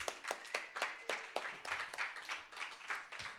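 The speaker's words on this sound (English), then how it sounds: "Had another round of applause for the poetry." Scattered clapping from a small open-mic audience after a poetry reading, quiet and fairly sparse, with a dozen or so distinct hand claps rising and falling over a few seconds.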